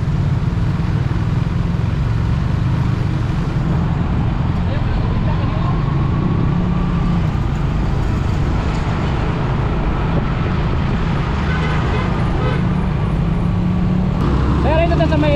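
City road traffic around midday in Davao City, heard from inside a moving vehicle: a continuous low rumble of engines and road noise with passing vehicles, and a voice talking over it near the end.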